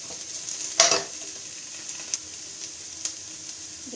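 Onion, chillies, curry leaves and ginger garlic paste fry in a pan, giving a soft, steady sizzle with one sharp spatter early and a few faint crackles after.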